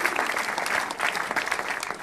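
A studio audience at a televised stand-up comedy show claps in a brief, lively burst, the applause dense and fairly close throughout.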